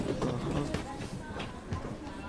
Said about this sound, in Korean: 빨리 전철 탑시다.